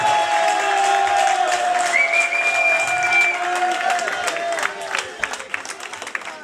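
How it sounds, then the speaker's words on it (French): Crowd applause and cheering at a wedding reception in Lyon, steady and fairly loud throughout, with a sustained tonal music or voice line running underneath and the clapping thinning slightly toward the end. "est-ce qu'on peut applaudir mon grand frère,"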